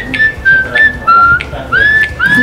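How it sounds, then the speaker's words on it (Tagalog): Someone whistles a short tune of rising and falling notes in several quick phrases, loud and close, with brief gaps between them. "Sipol-sipol lang yan."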